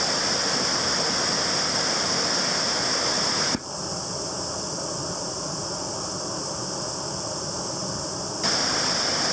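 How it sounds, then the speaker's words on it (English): A waterfall on the Waihi stream below a dam, just above where it meets the Waihi River, roars steadily and close by. The rushing wash dips slightly for a few seconds midway, then returns to full strength. "So that's the falls just immediately above the confluence of the Waihi River"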